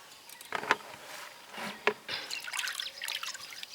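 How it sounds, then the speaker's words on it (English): Hands being washed under running water outdoors in an African village, a faint trickle with a few splashy drips and rubbing sounds, quiet and close with no talking. "So I'm just gonna wash my hands now."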